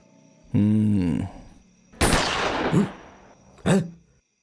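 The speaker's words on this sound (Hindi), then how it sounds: "गोली कहाँ से चली?" Gunshots ring out in a film scene: a short voiced cry, then a sharp blast with a long ragged decay, followed a moment later by a second crisp shot.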